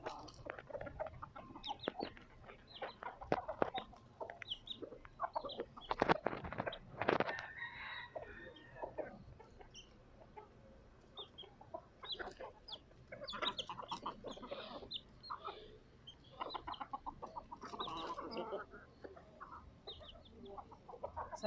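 Chickens in Key West's Old Town make clucking and rooster-crowing calls in bursts across the street, mixed with outdoor ambience at moderate volume.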